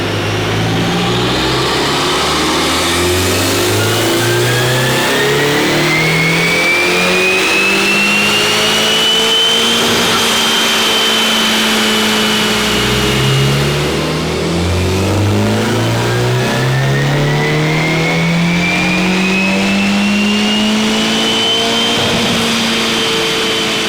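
A 10th gen Honda Civic Type R engine on a dyno pulls from low revs up to near redline twice, a loud, steady climbing roar with rising turbo whine, no talk.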